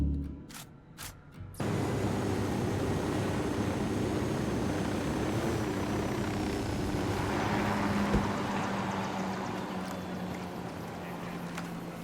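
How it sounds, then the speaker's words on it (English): A drone lifting off in Tom Clancy's Ghost Recon Wildlands: a few sharp clicks, then a sudden steady loud whirring rotor drone that holds and slowly eases off, with no voices. "Drone is airborne."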